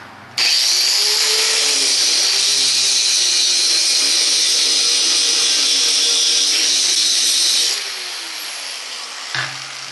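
A grinder running steadily on metal while forks are worked for blacksmithing outdoors near a shop, a loud continuous high whine for about seven seconds that then drops to a quieter hum and cuts off.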